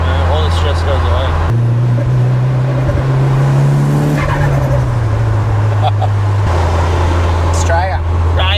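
Mitsubishi Evo 8 turbo engine accelerating through the gears, a loud, close drone that climbs in pitch, drops at each shift and climbs again, with people talking over it.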